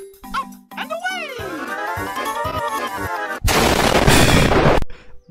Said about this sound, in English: That's like the sixth explosion I ever seen.